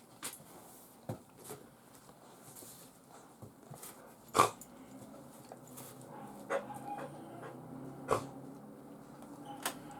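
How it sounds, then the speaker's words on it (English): A dog moves about a room, making faint snuffling and soft whimpering sounds with occasional light clicks and taps against a quiet background. "The dog's doing dog things."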